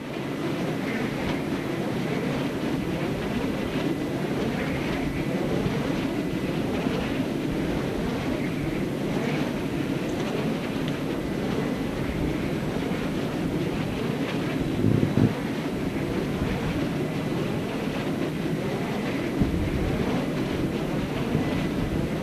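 Strong wind roars steadily through wind turbines on the Lévézou plateau in Aveyron, a continuous loud rushing drone like a distant airplane that never arrives, with wind buffeting the microphone throughout.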